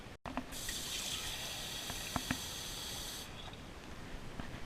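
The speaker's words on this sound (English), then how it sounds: "So I'm gonna add water the rest of the way." Water pours steadily from a tap into a pot of chicken stock for noodle soup, a continuous rushing fill lasting a few seconds, then cutting off to quieter trickles and small clinks.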